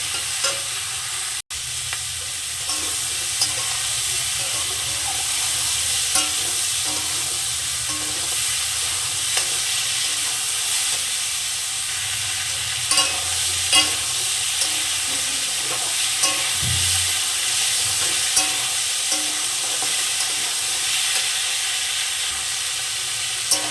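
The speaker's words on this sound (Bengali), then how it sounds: "আবারও তরকারিটাকে আমি কষে নেব ভালো করে।" Ridge gourd curry with potato, green chili and cumin is stir-fried in a pan, a steady close sizzle broken by repeated scraping strokes of a spatula, loud and continuous without any voices.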